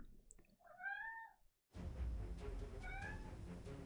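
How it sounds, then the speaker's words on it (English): A pet cat meows twice, close and clear, a rising drawn-out call before a brief silence and then another meow over louder background noise from a mobile fighting game. "Do you hear my cat? He's crazy."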